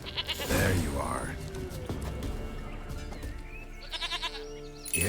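A goat bleats near the start in The Witcher 3, a wavering cry heard over game ambience and background music, with hoofed footsteps and a voice talking throughout.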